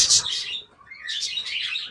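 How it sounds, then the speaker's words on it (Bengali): Pet pigeons and small birds kept together in a loft give bright, rapid chirps in two close bursts separated by a brief lull, with no talking. "রানিং জোড়া নতুন রানিং শ্যালো কবুতর আছে দেখেন"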